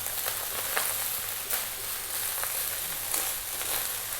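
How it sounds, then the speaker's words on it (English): Steady, bright sizzling of garlic tofu fried rice in a pan, a dense hiss with occasional sharper crackles, close and continuous throughout. "Now we really want that sound of the rice frying there."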